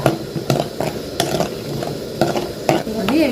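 About two spoonfuls of peanuts sizzle softly in oil for tamarind pulihora while a spatula scrapes and stirs the pan in repeated strokes, close and moderately loud.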